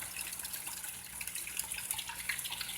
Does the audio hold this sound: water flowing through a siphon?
yes